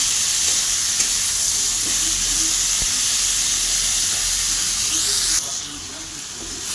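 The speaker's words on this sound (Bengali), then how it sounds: "পেঁয়াজ আছে, দিয়ে দেবো। ভালো করে ভেজে নেব।" Onions fry in a pan for chicken gravy with a loud, continuous hissing sizzle that drops suddenly to a quieter simmer near the end.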